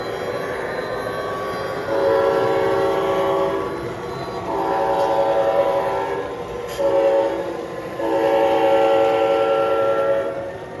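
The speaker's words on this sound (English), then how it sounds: "let's go ahead and pull the train" A train sounds its horn in several long blasts separated by short gaps, over a steady low rumble of rail cars moving as it pulls away.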